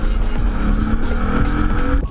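A 2014 Lexus IS drives past on a race track, its engine roaring loudly and close with a shifting pitch as it passes, and tyre noise comes through along with it.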